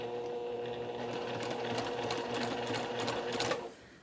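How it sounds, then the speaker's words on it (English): A sewing machine stitches around the edge of a cross stitch pillow, a steady fast mechanical chatter running close for several seconds before slowing and stopping. "And we're going to sew all the way around."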